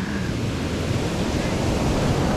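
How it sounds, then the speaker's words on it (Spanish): Steady wash of ocean surf at Playa del Carmen, Mexico, a continuous broad rushing roar of waves with no voices, close and fairly loud throughout. "El sonido de las olas."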